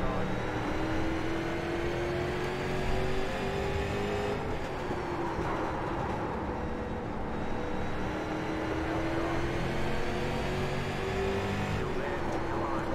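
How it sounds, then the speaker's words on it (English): A pack of street stock cars runs on the oval at Lanier National Speedway in the iRacing sim, engines droning steadily and continuously with slight rising and falling pitch as cars pass. "A lot of cars on the track."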